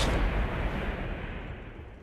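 A single tank gun fires in a tournament match of a tank video game, a loud boom that rolls off into a decaying low rumble over about two seconds.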